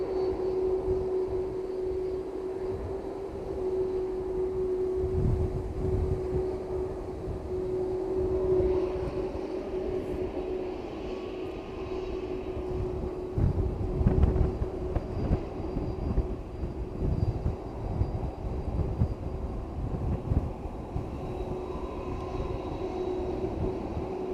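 An airplane at East Midlands Airport gives a distant, steady engine rumble and roar that swells slightly midway, with a faint tonal whine over it in quiet evening surroundings.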